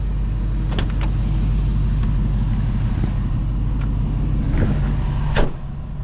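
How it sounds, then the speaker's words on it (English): A 1948 Chevrolet Fleetline Custom with a 3-inch chop sets off on a test drive, its engine a steady low rumble throughout, with a few brief clicks and a short squeal near the end. "We'll hop in this drive, take it around the block, show you what it's all about."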